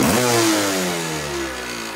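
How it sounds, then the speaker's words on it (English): A 1985 Yamaha Tri-Z 250 two-stroke engine revs hard, close and loud, its pitch climbing sharply then easing back to a raspy, buzzing high idle. "Rev it up a bit."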